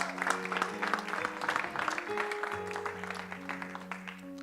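Church congregation applauding and cheering together after a testimony, a steady wash of clapping with voices mixed in and a sustained musical backing underneath.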